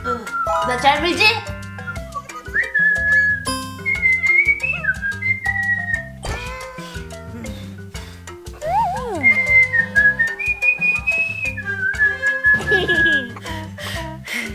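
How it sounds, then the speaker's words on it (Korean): A child whistles a series of clear, wavering tunes, loud and close, in bursts between giggles and children talking playfully. "와, 휘파람 잘 분다"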